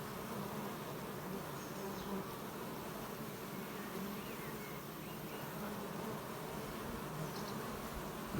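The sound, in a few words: honey bees buzzing at hive entrance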